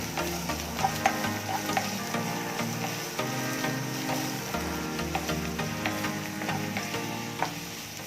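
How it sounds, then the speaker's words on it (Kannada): Onion and curry leaves frying for a spicy mushroom pepper fry give a dense, steady sizzle with scraping stir noises and occasional clicks, over background music. "ಆಮೇಲೆ ಒಂದು ಈರುಳ್ಳಿ, ಕರಿಬೇವು ಸ್ವಲ್ಪ, ನೀಟಾಗಿ ಇದು ಫ್ರೈ ಆಗಬೇಕು"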